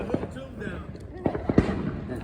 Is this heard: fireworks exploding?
yes